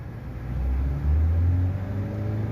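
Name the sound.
Maruti Suzuki Swift Dzire CNG engine revving with accelerator held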